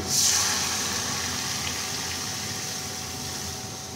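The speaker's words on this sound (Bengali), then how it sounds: "এই দেখো ঝোলটা দিচ্ছি" Broth for a Bengali fish curry is poured into a pot with a brief splashing gush at the start, then a steady watery rush that gradually settles, heard close with no speech.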